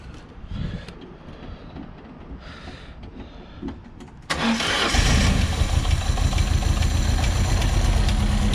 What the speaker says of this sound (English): Let's see if we can get her started now.